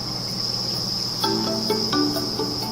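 Many crickets on a cricket farm chirp in a constant high-pitched drone, close and loud, with a few brief tonal sounds partway through.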